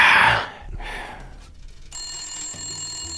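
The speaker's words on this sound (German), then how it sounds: "Oh, jetzt ruft doch wer an." An old-style telephone bell rings loudly in Blacksad: Under the Skin, a bright metallic trill that fades into a quieter room tone, with a steady high tone coming in near the end.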